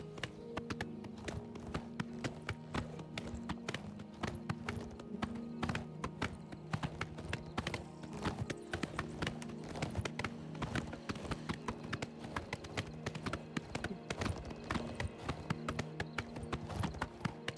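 Horse hooves clip-clop in a steady, rapid galloping rhythm in the video game Oblivion Remastered, loud and continuous throughout, with layered game ambience and no voices.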